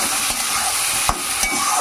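Tomatoes, onions, cardamom and salt fry in hot oil, a loud steady sizzle broken by a few quick scraping stirs.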